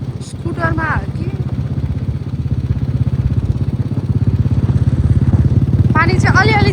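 A scooter engine hums with a steady, buzzing drone while riding, loud and continuous throughout, with brief voices at the start and near the end.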